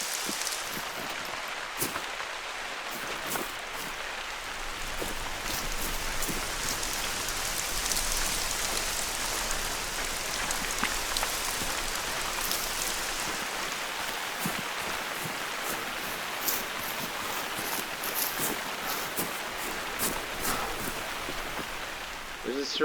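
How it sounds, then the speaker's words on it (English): Steady heavy rainfall in the video game The Hunter: Call of the Wild, hissing continuously with scattered drop patters, close and even throughout, no talking. "Oh, this rain comes down."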